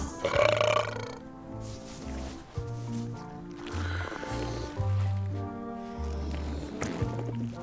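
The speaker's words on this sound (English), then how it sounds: "They're excellent for burping contests." A burping contest between cartoon characters, with a run of long, loud, drawn-out belches one after another over a low droning background.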